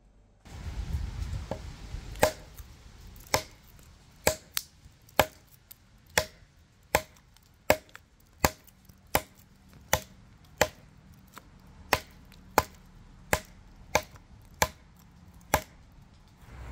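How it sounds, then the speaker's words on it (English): An Otacle A1 urban survival hatchet chops wood outdoors, about eighteen sharp, evenly spaced strikes landing roughly once a second, each a crisp close thwack with quiet pauses between. "we'll take it outside right now, and we'll be showing just kind of the chopping work on it"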